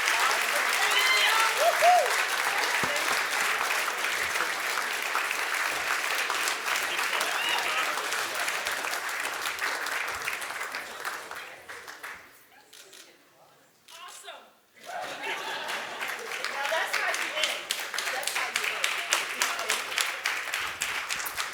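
A large conference audience applauds at a Delta Air Lines event, loud sustained clapping that dips briefly in the middle, then swells back up, with voices mixed into the crowd noise.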